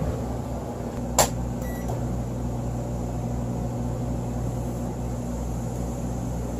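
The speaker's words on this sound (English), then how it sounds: "So the microwave's running" A steady low electrical hum with mechanical drone from a microwave oven running inside an RV, with both air conditioning units also running, continuous throughout with a brief click near the start.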